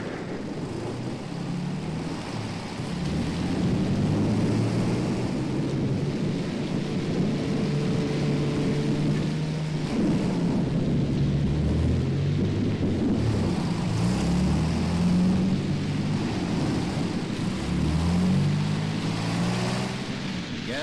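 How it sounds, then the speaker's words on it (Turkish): Steady rain hisses throughout, with low rumbling beneath it; no talking, just a continuous wash of falling water. "Oo, yağmur başladı."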